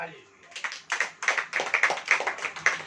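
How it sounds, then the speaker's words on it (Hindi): Clapping from a church congregation during a sermon starts after a quiet moment and settles into an even, rhythmic beat of many hands, moderately loud and steady. "ताली बजाइए।"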